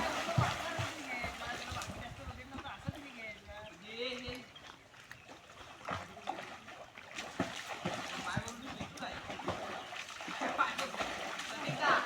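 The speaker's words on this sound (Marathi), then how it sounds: "हा बघा, सूर मारला." A swimmer dives into a deep river pool in the Konkan countryside, with splashes and churning water sounding near and broken, while voices talk over the action.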